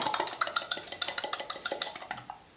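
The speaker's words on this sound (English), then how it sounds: "I'm going to mix that all together." Tuna, rice, butter and cheese stirred together in a bowl, giving a quick, steady run of close utensil scrapes and clinks against the bowl with no talk.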